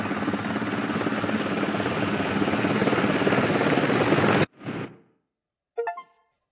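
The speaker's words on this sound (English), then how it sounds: "There's a helicopter." A helicopter's steady, loud rotor chop in the video game Wolfenstein: The New Order fills most of the clip, then cuts off abruptly, followed by a brief whoosh and a short chime.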